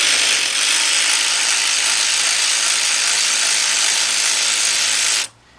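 A cordless ratchet spins off valve cover bolts on a Trailblazer-type SUV engine, a loud, continuous high-pitched whirring buzz that holds steady for about five seconds and then stops abruptly.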